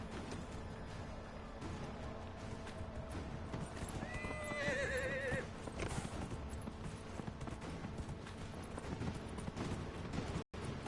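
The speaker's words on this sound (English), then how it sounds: "I've got a horse now, haven't I?" Horse in the Dragon Age Inquisition video game, with steady clip-clopping hooves throughout and a clear neigh midway, over a busy game background.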